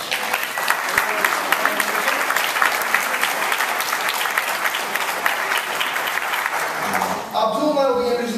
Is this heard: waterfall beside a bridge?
no